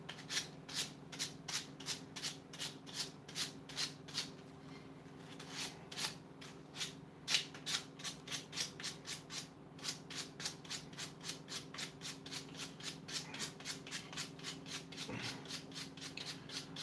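Steady back-and-forth scraping of hand sanding, rapid regular strokes continuing throughout, close and moderately loud with a low hum underneath.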